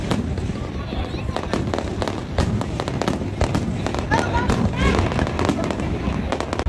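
New Year fireworks in Hong Kong crackle and pop continuously, with sharp bangs scattered through a dense barrage while people talk nearby.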